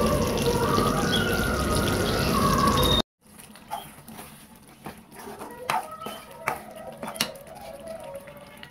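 Curry leaves are rinsed under a running kitchen tap while butter chicken gravy is being made: a loud, steady gush of water for a few seconds, then a quieter stretch of drips and wet handling close by.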